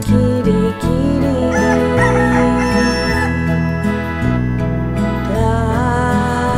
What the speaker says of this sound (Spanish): Canta el gallo, canta el gallo con el kiri kiri kiri kiri kiri.